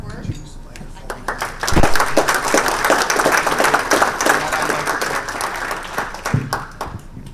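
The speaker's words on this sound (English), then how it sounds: "could we just give a round of applause to Jim and the Archford group for all of the hard work?" An audience at an owners' summit panel gives a round of applause that swells after a short pause, peaks loudly, then tapers slowly under a few lingering claps.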